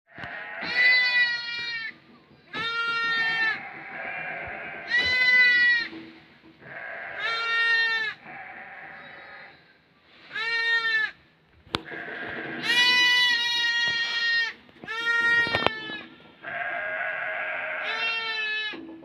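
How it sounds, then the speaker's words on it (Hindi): Repeated loud bleats from a flock of sheep and goats, overlapping calls in bursts with brief pauses between, close by. "और सारे भेड़े आ गए हैं अपने अड्डे पे"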